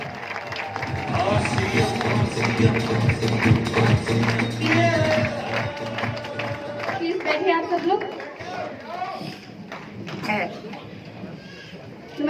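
A seated audience at a success celebration in Bhilwara claps in a rapid patter for several seconds, with chatter and talking running through it before it thins out.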